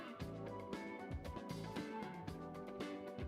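A live band plays a smooth, elevator-music style cover of a track, with steady drums and bass under mellow chords. The playing is continuous and evenly loud throughout, and no one talks over it.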